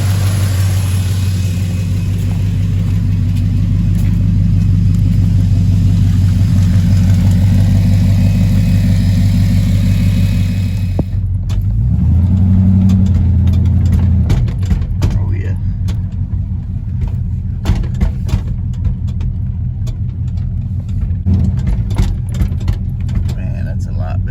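A 1977 Chevrolet Silverado engine idles after a repair, a loud steady rumble with a brief rev partway through, then settling into a rougher idle while a person talks nearby.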